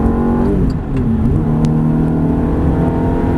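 Ferrari 430 engine accelerating at full throttle on a racetrack, a loud continuous in-car roar with steady rising tone and no pauses.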